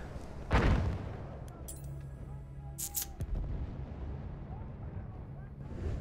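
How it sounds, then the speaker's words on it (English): A mortar shell bursts in Battlefield 1, a sharp booming impact early on followed by scattered distant battlefield blasts and rumble, with a voice talking over the action. "I was waiting for the mortar to hit me."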